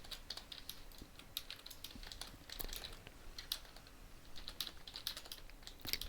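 Mechanical keyboard keys clack in quick, irregular bursts of typing, a close and steady stream of light clicks with no voices.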